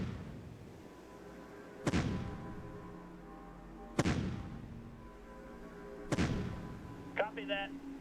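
Three heavy artillery blasts from a ranged attack in the strategy game Shadow Empire boom at roughly two-second intervals, each with a sharp crack and rumbling decay, followed by a brief chirping game effect.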